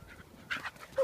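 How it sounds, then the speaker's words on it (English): A puppy playing in mud gives a few short whimpers and yips, close and fairly loud, in quick uneven bursts. "you crazy dog"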